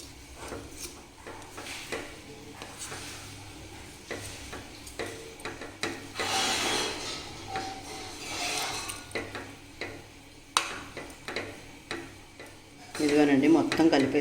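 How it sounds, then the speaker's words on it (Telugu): A spoon stirs kichidi with coriander in a pot, giving soft scraping and clinking strokes in an uneven rhythm, close by, with a louder rustling stretch near the end. "ఇప్పుడు మొత్తం కలుపుతానండి."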